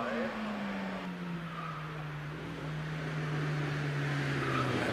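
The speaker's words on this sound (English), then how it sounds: "here's the Clio RS of James Robinson on the screen" A Renault Clio 197 RS races up the Prescott hill climb, its engine note held steady as it climbs away at a distance, with a commentator talking over it.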